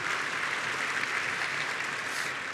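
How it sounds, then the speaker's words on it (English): Crowd at an NDP political convention applauding for a speech by Tom Mulcair, a broad, even roar of clapping that fills the whole stretch without a pause or a voice on top. "Yes, you can applaud"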